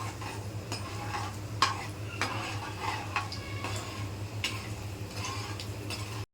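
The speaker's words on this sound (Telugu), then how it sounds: "కొంచెం 2 ఎండుమిర్చి వేసుకొని తాలింపులు వేగేదాకా కలుపుకోవాలి" Tempering seeds and two dried red chillies crackle faintly in oil while a spoon stirs with soft, irregular metallic taps against the pan over a low steady hum.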